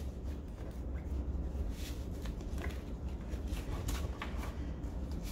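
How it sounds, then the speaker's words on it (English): Tarot cards are shuffled by hand, a quiet series of soft riffling flicks and papery snaps recurring irregularly over a low room hum, with no talking. "So let's finish this shuffle."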